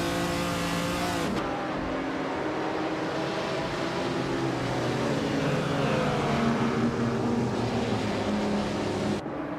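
Race cars roar and rev continuously through a video game race, engines droning loud and close with pitch sweeps as cars pass, a brief cut near the start and another at the very end.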